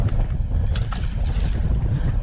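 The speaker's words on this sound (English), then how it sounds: "I hate this wind." Steady wind gusting and buffeting against the microphone out on open water during crappie fishing with light line, a continuous low roar with no speech.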